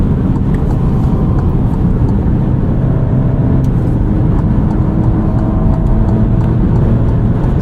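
A 2023 Alfa Romeo Giulia Estrema is driven hard through a corner, heard from inside the cabin as a loud, steady road and engine rumble with tyre roar, and no one talks.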